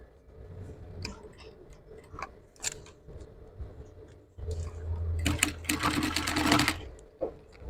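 A sewing machine stitches down the lining of a corset cup, opening with scattered ticks and clicks, then a steady close-up whirring run of stitches in short bursts.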